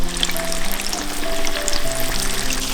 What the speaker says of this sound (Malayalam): ഇനി നമ്മൾ ഒന്നുകൂടെ ഫ്രൈ ചെയ്യും.